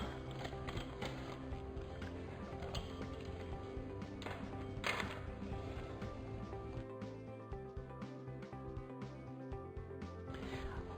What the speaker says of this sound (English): I'm just going to connect the shock corded poles to it